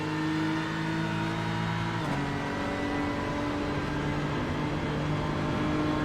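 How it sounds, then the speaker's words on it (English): A Porsche GT3 race car powers out of a turn on the Nürburgring GP circuit during a season-finale race, its engine droning steadily with a sudden pitch drop at a gear shift, heard from a moderate distance without voices. "Out of the turn, that Porsche starts to pull away."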